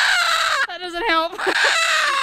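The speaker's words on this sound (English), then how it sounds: "That is a very vocal bird." A chicken squawks loudly while being held, a couple of sharp, strained cries up close amid scuffling.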